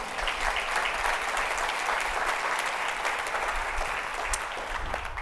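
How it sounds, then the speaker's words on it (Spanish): Large church congregation breaking into loud, dense applause, a continuous wash of many hands clapping that holds steady throughout without talk. "Yo creo que eso se merece un fuerte aplauso"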